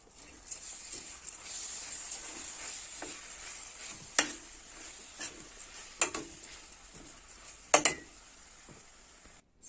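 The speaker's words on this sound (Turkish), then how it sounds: "Karıştırıyoruz." Onion, rice and bulgur filling for cabbage rolls stirred in a pan, soft scraping and gentle sizzle with a few sharp clicks of the spoon against the pan, near and fairly quiet.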